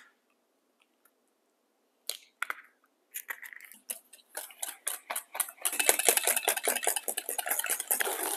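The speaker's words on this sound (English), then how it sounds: "And now I'm going to mix my wet ingredients together" Egg and sugar are beaten together in a bowl for a red velvet cake: a few scattered clinks at first, then quicker rhythmic tapping that builds into fast, continuous whisking, close and clear.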